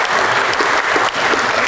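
A community anniversary crowd breaks into loud, dense applause for an absent honoree, a continuous wash of many hands clapping that stays at full volume for the whole stretch, with no speech on top.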